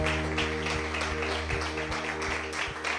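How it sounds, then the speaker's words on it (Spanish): A church congregation claps for the Lord during a service, steady rhythmic applause with regular beats, moderately loud and sustained throughout, with faint voices mixed in. "Dele un aplauso al Señor, iglesia."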